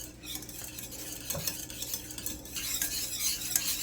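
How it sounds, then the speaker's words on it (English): A spoon works steadily through thick coconut pecan frosting in a pot, a close, continuous scraping and bubbling churn with a few louder knocks against the pan, growing busier toward the end. "they have been stirring nonstop"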